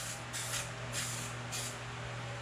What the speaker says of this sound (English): take our fade out spray, give it a nice little extra light coat